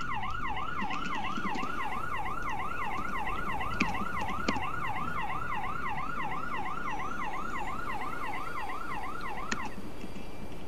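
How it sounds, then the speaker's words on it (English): A police car siren in a Roblox video game wails, cycling rapidly up and down, steady and loud for the whole stretch, with a few faint clicks over a low background rumble. "Turn his freaking siren off"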